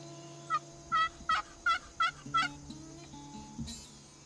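About six rapid, rattling gobbles from wild turkeys in a field ring out at mid distance, with soft calls and faint ambient hum between them and no speech.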